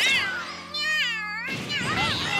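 A cartoon cat meows in an animated children's show about a cyborg cat, a drawn-out wavering cry over a steady background tone, with another shorter meow following after a brief break.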